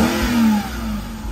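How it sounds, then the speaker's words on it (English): The V8 engine of a 2015 Mercedes-Benz G-Class G500 revs in a steady rising then easing drone, close and fairly loud with no speech over it. "it's expected from a large V8 engine"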